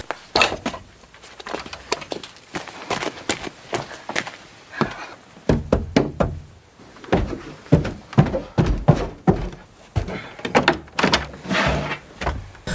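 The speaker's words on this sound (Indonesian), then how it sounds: "dia pun pergi ke rumah Samuel yang ada di belakang lur dan mengetuk pintunya" Knocking on the wooden door of a house set in the countryside, a run of repeated dull thunks in uneven bursts, fairly close and loud, with no talking.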